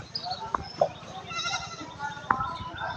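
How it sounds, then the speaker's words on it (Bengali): Several goats grazing in a field bleat in short separate calls, three distinct cries over a low rural background with faint voices. "ছাগল সব মাঠে"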